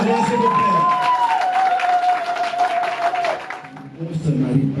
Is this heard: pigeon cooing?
no